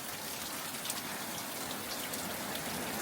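Steady rain falls during the rainy season, an even, dense hiss of drops on surfaces that continues without a break for a few seconds, with no speech over it.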